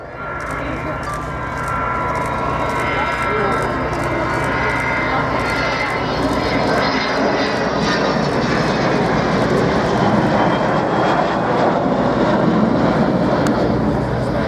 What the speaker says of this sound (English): Most wonderfully manoeuvrable aeroplane.